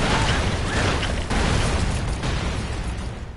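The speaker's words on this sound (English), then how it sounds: "I can't barely talk over all the explosions." Dense, rumbling video game explosions from the side-scrolling action game Broforce fill the clip as a continuous roar of overlapping blasts and debris, loud and low with no clear gaps and no speech.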